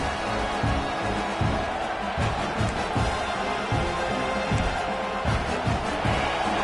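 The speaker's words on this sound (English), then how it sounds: "It's early, but this crowd is fired up. Listen to this noise here." A loud, steady roar of a stadium crowd cheering in an NCAA college football video game, broad and continuous throughout with low rumbling surges, no clear voices standing out.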